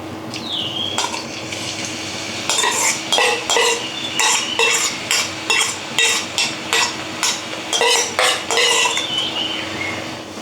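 Crushed chilies, garlic and ginger go into a hot pan and get stirred, with a low frying sizzle under a rhythmic series of metal spoon scrapes and clanks against the pan.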